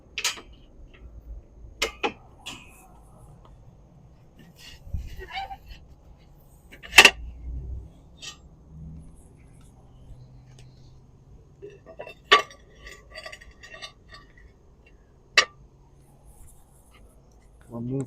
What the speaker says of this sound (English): I'm just going to remove our grates here, get the ceramic deflector plates off.